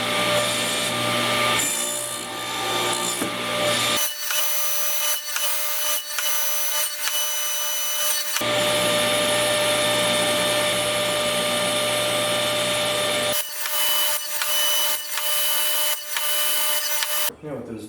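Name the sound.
saw cutting dados in old-growth wood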